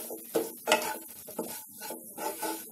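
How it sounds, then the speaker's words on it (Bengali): Powdered spices including cumin and Kashmiri chilli being sautéed for chicken tadka in a pan, heard as intermittent close scraping and clinking stir strokes with a faint sizzle between them, fairly quiet. "এটাকে আমি ভালো করে কষে নিচ্ছি"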